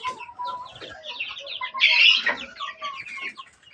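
Desi hens with roughly fifty-day-old chicks in a coop, a busy mix of soft clucks and chick peeps with one louder squawk midway, close and continuous, no speech.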